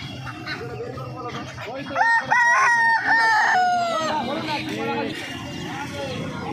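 At a busy Uluberia hen market, a rooster crows loudly mid-clip among clucking native chickens, while people talk steadily in the background throughout.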